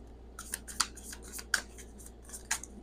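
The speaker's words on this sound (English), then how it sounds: "Oh, these cards shuffle so nice." Tarot cards being shuffled by hand, with crisp repeated snaps and riffles at uneven intervals, close and fairly quiet over a low steady background hum.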